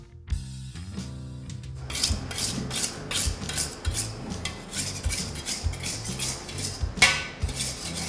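A spatula mixing hot asphalt in a lab bowl, making repeated close rasping scrapes and rubbing strokes in a steady back-and-forth rhythm, with occasional sharper metallic clinks.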